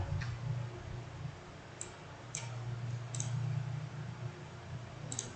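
A few faint, sparse computer mouse clicks at a desk during PLC programming in TIA Portal V15, standing out over a steady low electrical hum.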